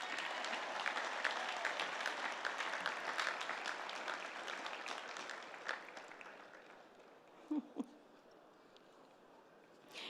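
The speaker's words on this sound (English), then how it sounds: "Let's give them another round of applause." Crowd applause at a high school graduation in a stadium, broad and steady, gradually thinning and fading toward the end with a couple of brief louder bumps near the close.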